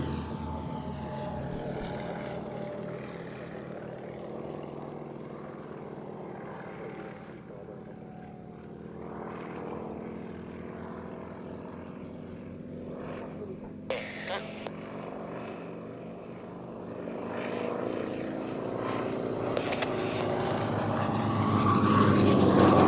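Propeller aircraft fly a mirror formation loop at the RAF Waddington airshow, a sustained engine drone that shifts in pitch as they pass, growing louder toward the end; no talk is heard.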